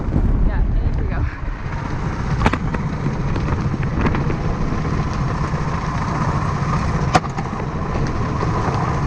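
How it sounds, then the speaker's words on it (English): Strong squall wind buffets a sailboat at sea, a loud, steady roar with gusty swells and sharp knocks from rigging and hull running throughout. "Another puff of wind from the squall. It's pretty intense."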